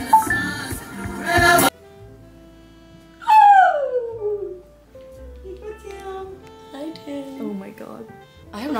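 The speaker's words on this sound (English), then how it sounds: "I have not touched a dog in like 5 years." A dog whines and then howls in long, rising and falling cries close by, with loud music and people talking around it.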